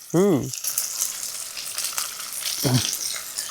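Capsicum and whole dried red chillies fry in a pan for honey chilli, a steady moderate sizzle running beneath two short bursts of a voice at the start and near the end.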